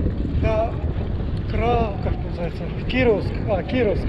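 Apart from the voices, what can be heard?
wind noise on microphone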